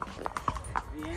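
Horse hooves clip-clop in a short, uneven run of hits outdoors in a forest during a riding outing, with people talking over them.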